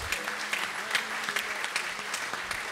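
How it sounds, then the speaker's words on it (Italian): An audience at the Gran Loggia 2023 event applauds after a student's testimony, with dense, sustained clapping and some individual claps standing out, loud and close. "questo è il nostro applauso per la testimonianza"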